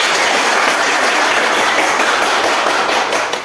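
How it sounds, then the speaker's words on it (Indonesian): Schoolchildren in a classroom clap for their teacher, a loud, dense patter of many hands sustained evenly for a few seconds before tapering at the end, with no talking. "minta anak-anak tepuk tangan untuk ibu dulu"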